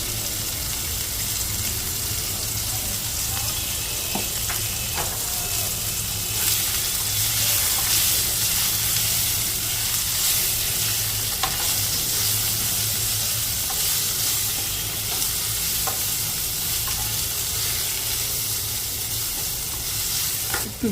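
Amla (Indian gooseberries) sizzle loudly in hot oil in a pan, with a constant, even frying hiss and occasional scrapes and knocks as they are stirred, steady for about twenty seconds.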